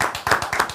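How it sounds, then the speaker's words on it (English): A small group gives a brief round of applause, close by, with a few uneven bursts of clapping in under a second. "another round of applause for what they're doing."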